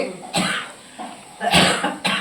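Several harsh, breathy coughs come in quick bursts, close and fairly loud, with short quiet gaps between them.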